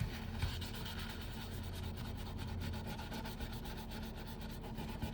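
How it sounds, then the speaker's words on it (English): A paper towel rubs pencil shading on paper with a steady, fast back-and-forth scrubbing that runs unbroken and close, soft and papery, with no voices. "I could blend it in with a paper towel"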